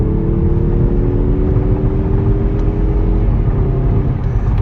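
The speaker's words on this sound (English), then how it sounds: "The way it picks up speed, the way it sounds even. And I'm hearing more induction than I am exhaust" A 2023 Mazda 3 2.5 Turbo AWD accelerates, and the loud, steady induction drone rises in pitch inside the cabin, with a brief shift in tone near the end.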